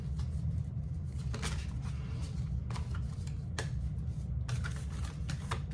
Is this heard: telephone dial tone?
no